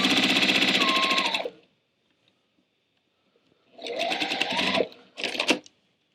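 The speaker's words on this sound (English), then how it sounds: "I am sewing with a 1/4 inch seam allowance, and when I start and finish my sewing, I am back stitching to help strengthen that seam" A sewing machine stitches a quarter-inch quilt fabric seam with back stitching, running in two loud, steady bursts, pausing between them, then a brief final run, with no talk.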